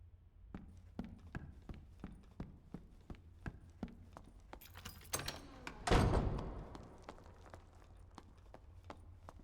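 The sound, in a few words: escape portal popping up in Dark and Darker video game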